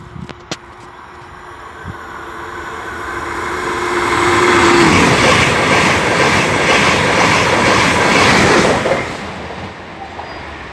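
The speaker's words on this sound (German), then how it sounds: "Ein ICE2 war das mit einer Mordsgeschwindigkeit." An ICE 2 high-speed train with a loud power car rushes past at about 200 km/h, building from a distant hum to a close, roaring rush with rhythmic wheel clatter before fading.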